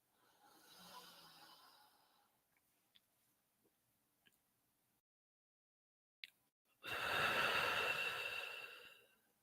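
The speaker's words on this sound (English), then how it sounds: "this is one of my essential oils I'm just breathing in to help calm my brain down a bit" Slow, close breathing while inhaling essential oil: a soft inhale, a quiet pause with small ticks, then a long, loud exhale near the end.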